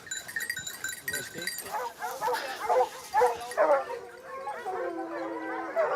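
A pack of hunting dogs bays and gives voice during a wild boar hunt in rural France, with several excited barks and yelps rising in bursts at middle distance over a steady outdoor background.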